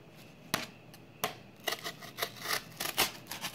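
A liner lock knife cutting paper makes a few sharp, quiet slicing and crinkling sounds, spaced unevenly and followed by a quick cluster of rustles.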